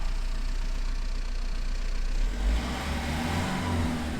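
A 2010 Renault Megane 1.9 dCi diesel engine idles steadily with a low rumble, then revs up partway through, its pitch rising and settling into a higher hum. The engine is heard close and alone, with no voices.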